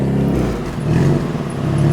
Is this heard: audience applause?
no